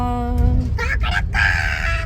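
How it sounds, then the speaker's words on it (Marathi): A rooster crows nearby at dawn in a village, a drawn-out call, with a low rumbling background throughout. "सकाळ झाली कोंबडा वरडला"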